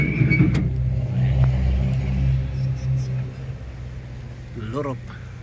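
A used Japanese car's engine revs near the microphone, a low rumbling rise and settle over several seconds, while someone talks over it.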